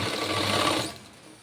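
A sewing machine stitches blouse sleeves on thick fabric, a steady close mechanical whirr that stops abruptly partway through.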